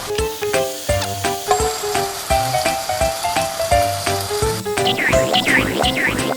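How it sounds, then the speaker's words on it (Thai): Sliced pork is stir-fried with teriyaki sauce in a pan, sizzling steadily while a utensil clatters and scrapes in an irregular rhythm throughout, loud and close with no talking. "เราก็ ผัดต่อเลยจ้ะให้แบบว่านำซอสเนี่ย เข้าไปในหมู"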